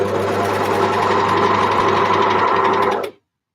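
A sewing machine stitching knit fabric runs steadily at a fast, even pace for about three seconds, loud and close, then stops abruptly.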